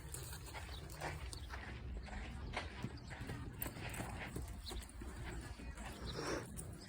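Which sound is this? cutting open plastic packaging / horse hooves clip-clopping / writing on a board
horse hooves clip-clopping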